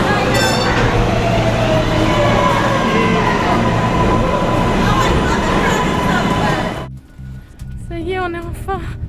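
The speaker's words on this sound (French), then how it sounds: "Et notre train est là" A New York subway train roars loudly along the platform, rumbling and squealing for several seconds before it cuts off abruptly. Brief chatter and tonal squeals follow at the end.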